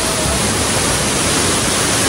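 A waterfall in the Nuwara Eliya hill country roars with a dense, steady rush of falling water, loud and close, with no break or variation.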